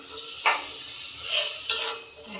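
Vegetables go into a pan of cooked spiced masala and fry with a steady, close sizzle. Louder hissing swells and stirring scrapes come and go over a few seconds.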